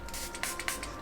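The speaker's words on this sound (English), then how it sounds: "What's that sound? And I'm like, I'm just spraying." A spray bottle misting scent into a room gives a few short close hissing bursts in quick succession over a faint background.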